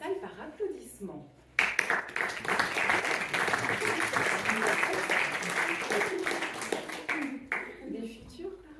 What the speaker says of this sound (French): est-ce que ce soir, il y a des parents dans la salle par applaudissement?